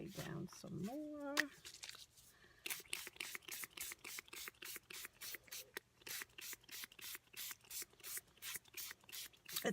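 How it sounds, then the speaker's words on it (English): Homemade spray dye pumped from a spray bottle onto paper towels gives a long, quick run of sharp, close spritzes in a steady rhythm, after a brief vocal sound at the start. "Spray down some more."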